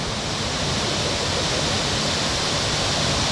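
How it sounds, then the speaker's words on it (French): Small waterfall in open nature at Munduk in northern Bali, a steady full-band rush of falling water heard up close and alone, loud and constant throughout. "Encore une petite cascade en pleine nature."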